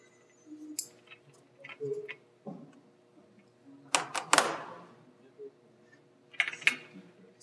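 Automatic transmission solenoids being bench-tested, giving a few sharp isolated clicks spread through the clip, one louder snapping burst in the middle, with short hissy bursts between them.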